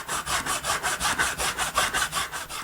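A hand saw cuts a miter in wood molding with a steady back-and-forth rhythm, about a dozen even rasping strokes, close and clear with no talking.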